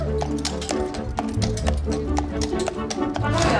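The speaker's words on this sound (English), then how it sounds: "Bet no one else comes in a horse and carriage." A horse pulling a carriage clip-clops steadily, regular hoof strikes ringing out clearly over continuous crowd chatter and music at a traveller wedding.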